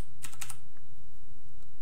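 Fast typing on an Ozone Strike Pro mechanical keyboard with Cherry MX Blue switches: a quick, close burst of sharp clicky keystrokes that fades into a quiet, low background hum.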